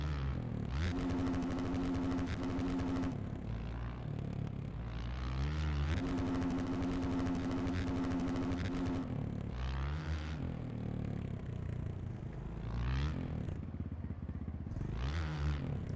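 Simulated 450cc dirt bike engine droning steadily through laps of a supercross track in the MX Bikes game, revving up and down in long sustained pulls with gear changes, loud and continuous throughout.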